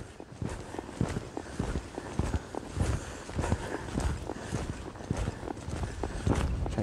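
A horse loping in an arena during reining training, its hoofbeats thudding in a steady, rolling rhythm at close range, joined by faint tack and footfall noise with no talk.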